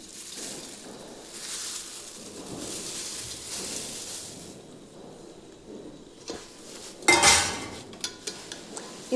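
Poha being gently stirred in a pan for poha chiwada, a soft continuous rustle and scrape of flakes, then a few louder clinks of a utensil against the pan near the end.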